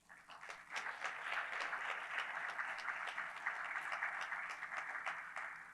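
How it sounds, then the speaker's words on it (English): Steady crowd applause at a transportation research day poster awards ceremony, a dense wash of many hands clapping that holds evenly for several seconds, moderately distant with no speech over it. "So please give a round of applause for all of our students and the poster judges."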